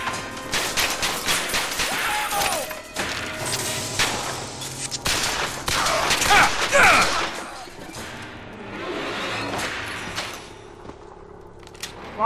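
Heavy gunfire in BioShock Infinite, loud overlapping shots and bursts with metallic clatter and crashes, dense for most of the stretch before thinning near the end.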